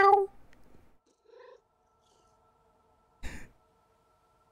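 A cat in the video game Stray gives a short meow-like cry, then a breathy, quiet purring murmur, and after a pause one more brief vocal burst, all close and fairly faint.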